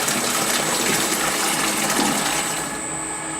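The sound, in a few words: water dispensed from Presidential soft-serve machine during wash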